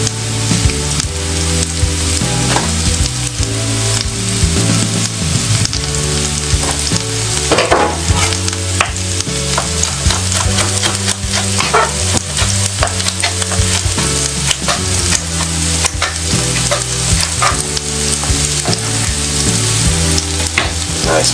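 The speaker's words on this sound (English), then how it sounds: "I'm just sauteing off all of those beautiful vegetables" Carrot, yellow pepper and other vegetables sautéing for stir-fry cabbage make a loud, continuous sizzle close by, with frequent scraping and stirring clatter and background music underneath.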